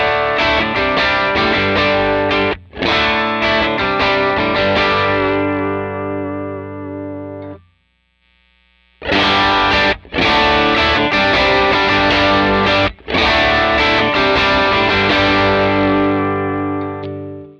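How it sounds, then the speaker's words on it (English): Electric guitar through a distortion pedal on a Line 6 Pod Go rings out in loud, sustained chords that are cut off sharply, with a short silent gap before the chords resume. "After that, I'm going to choose my first pedal, which will be a distortion pedal."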